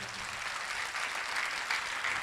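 Congregation at a Bible convention in Amritsar clapping together, a dense, steady wash of many hands applauding loudly and continuously throughout, with no pauses.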